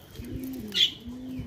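Pigeons in a loft give soft low cooing calls in two drawn-out phrases, with a brief brighter chirp midway, fairly close and steady.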